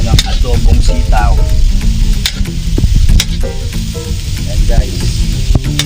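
Adobong sitaw, string beans in adobo, sizzles loudly in a pan with a steady frying hiss and scraping stir strokes throughout, while a voice speaks briefly over the cooking.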